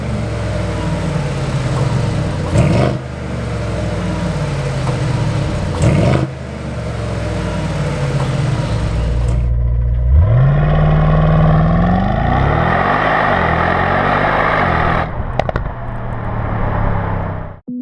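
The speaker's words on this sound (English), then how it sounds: "you can always open up the valved exhaust and listen to the engine instead." A 2021 Mercedes-Benz GLE 63 S AMG Coupe with its valved exhaust open roars loudly on the road, rising and falling through gear changes, then builds into a long hard acceleration with a climbing engine note.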